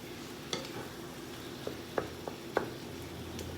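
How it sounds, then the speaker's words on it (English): Italian sausage being folded into sizzling ground beef in a pan, a soft steady sizzle broken by a few sharp scraping stirs and wet squishes. "I'm gonna fold this Italian sausage in."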